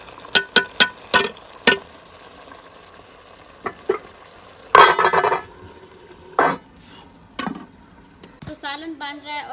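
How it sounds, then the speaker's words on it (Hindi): Curry frying and being stirred in a pan during a village evening meal, with a run of sharp scraping and clattering stirs, bursts of sizzling, and a soft steady fry in between. "अभी इनको भूनेंगे हम और जैसे जैसे भूनेंगे और ये बिल्कुल घुल जाएंगे"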